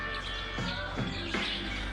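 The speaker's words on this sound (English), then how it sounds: "That entire tree is full of birds." Birds chirping from a tree full of them beside a fence line on a waterfall hike in La Fortuna, a few short tweets over a faint, steady outdoor background.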